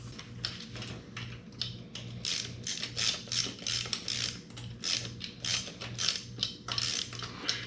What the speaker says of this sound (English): Now we're going to tighten it down.